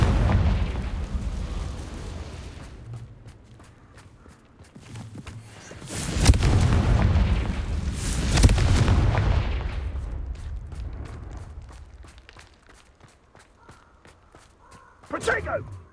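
Fiery Confringo spell blasts in the Hogwarts Legacy video game, loud booming bursts around the six- and eight-second marks that roll off slowly, with a quieter crack near the end amid duel chatter.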